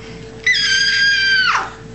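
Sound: voice imitating a bat

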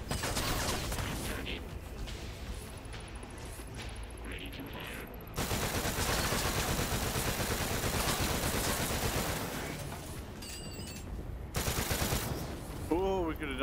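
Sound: gunfire in the video game Stormland

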